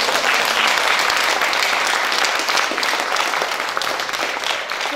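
A live audience at a talk applauds with dense, sustained clapping that stays loud and even throughout, without speech.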